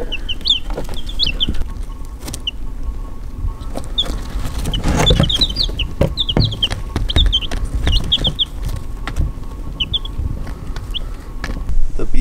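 Backyard chickens at feeding time in extreme heat make scattered clucks and short calls over a low background, with a few louder bursts in the middle.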